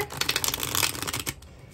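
Tarot cards are shuffled by hand in quick riffling bursts, crisp papery flutters close to the microphone that stop abruptly near the end, with no talking.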